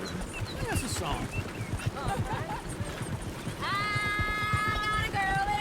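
Horse hooves clip-clopping along in Red Dead Redemption 2, a steady loose rhythm running beneath a voice, with a horse whinny rising near the end over outdoor ambience.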